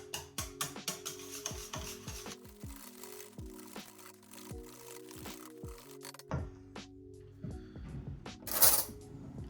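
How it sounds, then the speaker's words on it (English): A whisk beats a moussaka mix with herbs in a bowl, giving a steady run of quick rhythmic clinks and scrapes, close and moderately quiet, with a brief sharper noise near the end. "Give that a good whisk."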